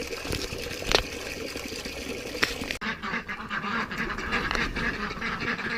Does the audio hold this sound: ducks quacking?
yes